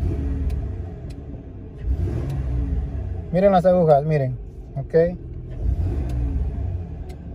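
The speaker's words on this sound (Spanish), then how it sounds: "Y aquí simplemente voy a hacer un acelerón" A 1999 Ford F150 engine rumbles steadily at close range while someone talks over it, with the low drone swelling into a few revs partway through.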